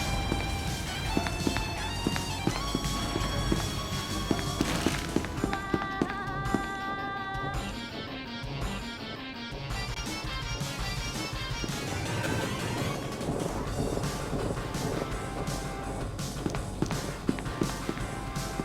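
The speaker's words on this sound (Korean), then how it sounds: "발소리 왜 이렇게 내는 거야" Footsteps in a video game, a fast, steady patter of steps running on and on, mixed with game music and scattered sharp effects, loud and continuous.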